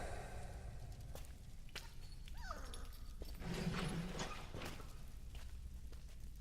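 A dog whimpers in the Blues and Bullets video game, a few soft, rising whines in the middle amid faint clattering and ambient background, quiet and fairly close, with no speech.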